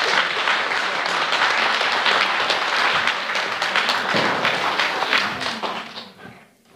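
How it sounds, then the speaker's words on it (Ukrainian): Concert audience applauding for a People's Artist of Ukraine at an evening music event in Korsun-Shevchenkivskyi, a loud, dense wash of clapping that holds steady and then fades out near the end. "Ваші оплески."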